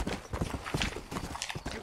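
Horses in the video game Red Dead Redemption, walking across a wide steppe, give a steady run of close hoof clip-clops with no talk over them.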